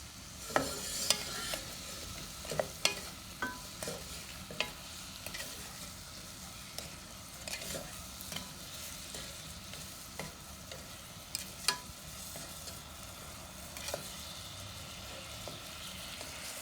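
Cinnamon apples in a spice mixture sizzle steadily in a pan, with scattered scraping clicks and taps as a utensil stirs them, close and moderately quiet.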